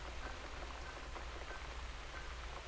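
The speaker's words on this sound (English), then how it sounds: "Looks like we've got the rain back." Rain falls steadily in the video game The Cat Lady, a soft even patter that runs quietly throughout with no voices.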